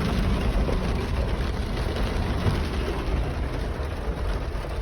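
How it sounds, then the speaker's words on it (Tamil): Heavy rain in Ajman, near Dubai, a constant dense hiss of falling water mixed with a low engine-like rumble, steady and fairly loud throughout with no speech. "இன்னைக்கு சரியான ஒரு மழை, நல்ல ஒரு மழையோடைய நேரங்கள் பார்க்கலாம்"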